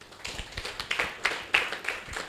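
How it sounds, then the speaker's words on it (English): Scattered claps from a small audience honour a woman at a business grant session, a few uneven hand claps close by over roughly two seconds, fairly quiet and thin rather than full applause. "More clap for her."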